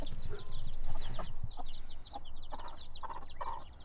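A mother hen in a mobile brooder with her newly hatched chicks gives a series of soft, rhythmic clucks, joined by chirps and peeps from the chicks. The sounds are close by and carry on throughout with no talking.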